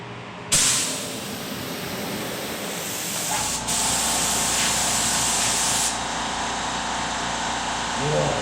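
A spray gun lays primer on a 1968 Buick Skylark Convertible during paint prep, a loud steady hiss that starts abruptly and runs unbroken to the end, with faint voices in the background.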